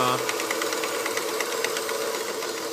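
A Kenmore Free Arm multi-stitch sewing machine, model 158.1941, running at speed on a tight narrow stitch, a steady rapid mechanical whir and clatter close by, with someone talking over it briefly.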